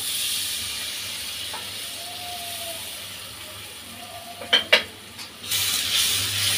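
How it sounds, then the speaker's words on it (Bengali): Water from rinsing a spice-grinding stone poured into a hot pan for hilsa roe curry, a low hiss building to sharp sizzling bursts and then a louder steady sizzle. "একটু মশলা বাটার ওই পানিটা দিয়ে দেব"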